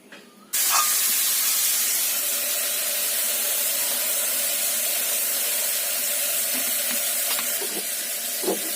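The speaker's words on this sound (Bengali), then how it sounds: "মাছটা আমি ভেজে নেব" Fish frying in a hot frying pan: a loud, steady sizzle bursts in abruptly after half a second and hisses on unbroken to the end, with no voices.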